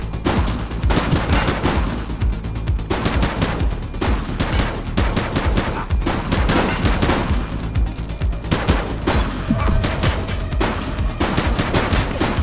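A police shootout in The Precinct, an open-world police video game: dense, continuous automatic and rapid gunfire from several weapons, loud and close throughout, with no talk.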